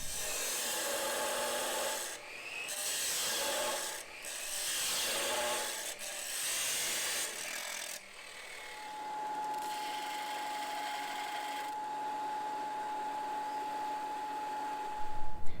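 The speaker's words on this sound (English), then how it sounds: "we're gonna go ahead and cut these out of some metal that we have here" Metal is cut into pin pieces for an RV seat swivel base, giving a steady rasping, grinding noise with several short breaks early on, then a continuous whining tone, no talking.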